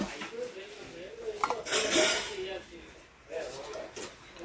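Steel cooking pots and bowls clink and clatter as they are handled in a kitchenware shop, a few sharp metallic knocks and scrapes amid nearby voices.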